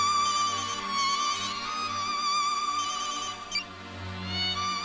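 A phone rings in a comedy film scene, a steady repeating electronic tone with pulsing low beats, loud and continuous for several seconds with no talk over it.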